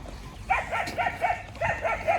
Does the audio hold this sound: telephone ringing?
no